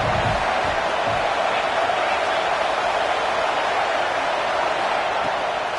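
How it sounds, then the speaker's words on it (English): A football stadium crowd roars steadily on a third-down play, a dense, continuous wall of cheering and noise that stays loud and even throughout with no distinct voices standing out. "Decibels rising as the crowd gets behind this defense on third down."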